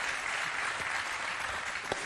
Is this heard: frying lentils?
no